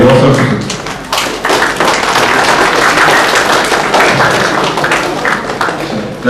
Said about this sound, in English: Why don't we give a round of applause for yourself?